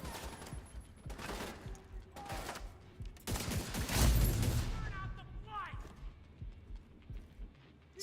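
Gunfire from a weapon in a video game sounds as sharp shots in clusters, loudest near the middle, with game sound effects and a voice under them.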